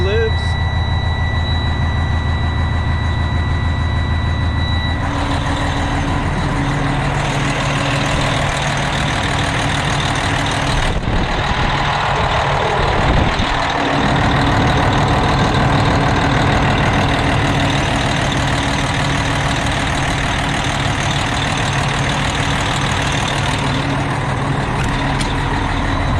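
A Detroit 60 series diesel in a 2008 Freightliner Century truck settles into a steady, loud idle after starting, a continuous low rumble that holds throughout with a brief dip partway.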